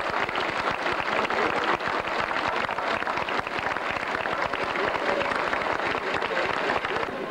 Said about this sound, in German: Bitte um Ihren Applaus für den Wendler von Reinhard Lebensberg.